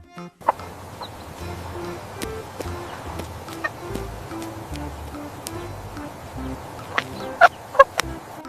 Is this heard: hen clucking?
yes